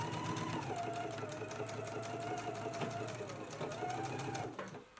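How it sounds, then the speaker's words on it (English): A sewing machine stitches a dress seam in a steady rhythmic whir, running continuously at low volume with a steady hum beneath it, then stopping just before the end. "And we're going to stitch again at a 5/8 of an inch seam allowance."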